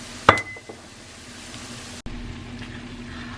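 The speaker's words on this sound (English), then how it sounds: "this is just supposed to be simmering for a minute" Marsala cooking wine simmers in a pan with a soft, steady sizzle, opened by a sharp clink of a utensil and a brief bump partway through.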